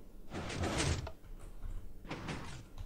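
Minecraft redstone-powered secret 2x2 hidden door sliding open in the video game, two short mechanical whooshing bursts with a brief pause between them, fairly quiet and alone.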